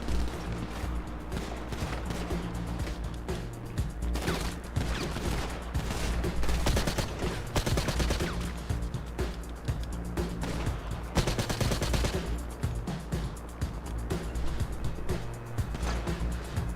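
Dense, continuous gunfire from a GTA V mission: overlapping bursts of shots and rapid automatic fire crackle throughout, steady and fairly loud, with faint vehicle noise beneath and no talking.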